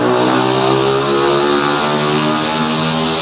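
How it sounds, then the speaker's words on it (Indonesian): A noisy motorcycle engine drones loudly and steadily nearby, a dense rumbling buzz at an even pitch throughout, heard from beside a parked 2019 Toyota Avanza with no talking. "berisik banget tuh motor."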